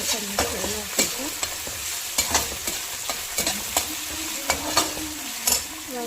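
Ginger garlic paste frying in a pan for a matar paneer gravy, a continuous close sizzle broken by frequent sharp stirring scrapes and clinks, with no voices.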